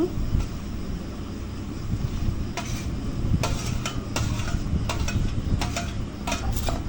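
Shrimp and spices, including kalonji seeds, are ground on a stone slab with a steady, rough scraping rub. Repeated brisk strokes of stone on stone grind close to the microphone under continuous noise.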